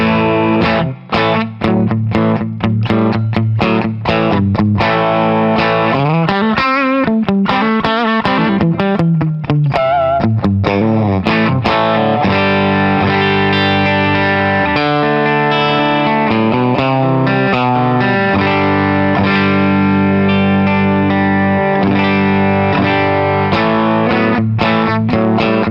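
Heavily distorted riffs and sustained chords from a budget Fojil RG-style electric guitar, played loud and continuously through effects with chorus-like shimmer and no talking.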